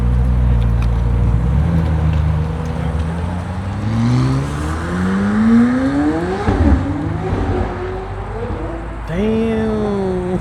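A car at a supercar cars-and-coffee meet accelerates hard, its engine note sweeping up and dropping repeatedly as it climbs through several gears, loud and close over steady crowd noise.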